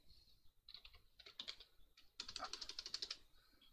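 Quick bursts of typing on a computer keyboard at a Linux terminal, soft clustered key clicks in two short runs separated by a brief pause, close and fairly quiet.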